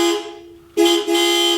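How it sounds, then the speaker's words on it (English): Car horn of a Turbo Colt Vista wagon, a loud steady nasal honk held for nearly a second, briefly cut, then sounded again close by. "That sounds like a TV car horn from the 90s."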